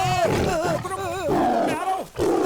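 A tiger roars in a Hindi-dubbed South Indian film scene, rough growling bursts layered under wavering, voice-like tones that rise and fall across the scene.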